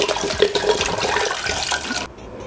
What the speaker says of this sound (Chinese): 2罐啊，直接搞里头。